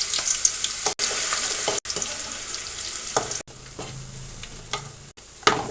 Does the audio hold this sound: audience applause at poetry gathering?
no